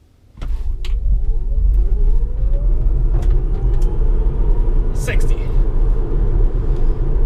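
Tesla 75D electric car pulling away from a standstill under full acceleration, with a steady loud rumble of road and motor noise inside the cabin that holds for several seconds, and a few brief clicks and creaks on top.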